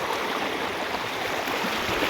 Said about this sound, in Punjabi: ਕਿੱਥੇ ਦੇਖੋ ਪਾਣੀ ਕਿੰਨਾ ਤੇਜ਼ ਆ ਰਿਹਾ ਹੈ